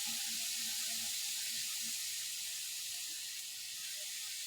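Spice paste fries in oil in a pan for a prawn and Malabar spinach malai curry. A soft, steady sizzling hiss runs throughout at low volume with no talking.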